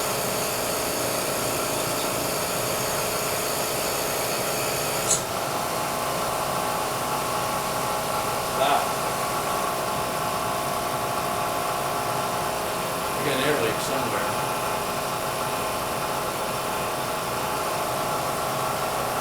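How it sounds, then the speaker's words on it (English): A steady engine running continuously at an even idle, loud and close, with a constant droning hum and a few faint clicks on top. "Engine noise."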